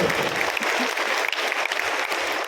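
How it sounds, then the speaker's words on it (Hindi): An audience in a Patna memorial hall at a comedy show claps loudly and continuously, a dense sustained burst of applause filling the room. "एक बार जोरदार ताली बजाओ, समझ में आ गया हो।"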